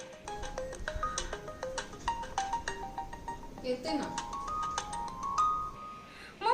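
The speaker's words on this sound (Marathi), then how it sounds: "ए भैरे, किती वेळचा फोन वाजतोय?" A phone ringtone plays a repeating melodic tune of bright stepped tones, ringing continuously at moderate volume while a voice speaks briefly over it.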